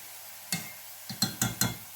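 Potatoes fry in plenty of oil, with a soft sizzle underneath as a utensil clinks and scrapes against the pan in four or five quick, close strikes, and nobody speaks.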